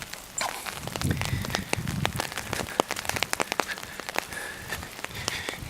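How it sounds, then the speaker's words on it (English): Rain drums on an umbrella while walking along a lakeshore, a close, irregular patter of sharp drops and taps over a soft background hiss, moderately loud throughout. "Maybe you can hear the rain pelting my umbrella."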